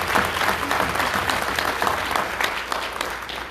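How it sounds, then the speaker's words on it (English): A public forum audience about a school complex closure gives a steady round of applause for two principals, dense, even clapping filling the room from start to finish. "If we can just please give them a quick round of applause."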